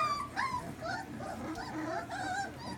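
Three-week-old puppies whimper, yip and squeal after feeding in a pen, a steady chorus of high, wavering cries close by and fairly soft, with no talking.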